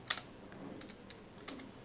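A computer keyboard typing a terminal command, with a few faint, sparse key clicks spread apart, quiet and close, with no talking.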